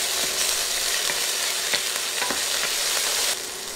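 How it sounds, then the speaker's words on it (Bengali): Garlic paste and ginger paste frying in hot oil in a pan for khichuri, a steady close sizzle with a few soft stirring scrapes, continuous and loud throughout. "বাটা মশলাগুলো 30 সেকেন্ড ভেজে নিব"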